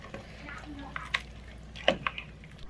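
A spoon stirs chicken and rice soup in a pot. Soft liquid sloshing and a few light clinks against the pot sound close but quiet over a low hiss.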